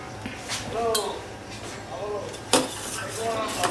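A spoon stirs milk heating in a pot in a home kitchen, giving a few metallic clinks and scrapes against the pot at intervals while someone talks nearby.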